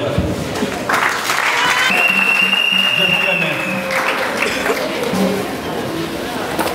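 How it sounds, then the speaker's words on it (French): An audience at a political party's anniversary congress in Mauritius applauds its standing guests, steady clapping running throughout as someone speaks over a microphone and a brief electronic tone sounds midway. "Et tous nos invités se mettent debout, on va les applaudir."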